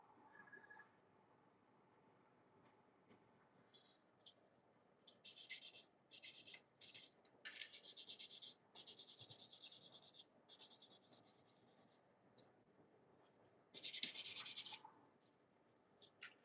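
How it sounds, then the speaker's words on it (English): Sandpaper rubbed by hand over a model, close dry scratchy bursts of sanding in repeated strokes of a second or two, separated by quiet gaps, no talk. "So I'm just gonna use the sandpaper."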